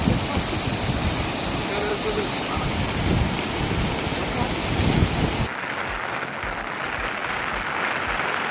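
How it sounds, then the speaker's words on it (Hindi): Heavy monsoon rain pours steadily in Telangana, a dense, loud hiss of downpour on surfaces that abruptly thins and softens to a lighter patter partway through, with no voices. "మళ్ళా వాన పడుతూనే ఉంది. ఇంకా వాన ఆగలే."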